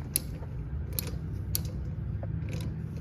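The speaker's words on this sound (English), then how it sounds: "Now just tighten this bolt." A bolt with washer and nut is tightened on a Chamberlain D2101 garage door opener, giving faint, irregular metallic clicks and ratchet-like ticks close by over a low hum, with no talking.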